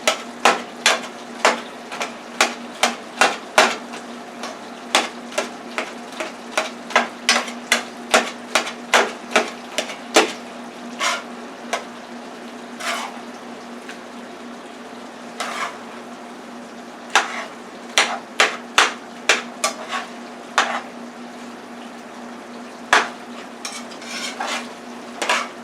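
Utensil scraping and tapping against a pan as ground beef is broken up while it fries, a steady series of sharp clinks in irregular bursts over a constant low sizzle, close and fairly loud with no talking.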